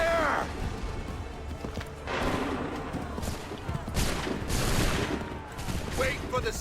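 Musket volleys in the Assassin's Creed 3 game, several loud crackling bursts of massed gunfire spread across the scene, with shouted commands and voices around them.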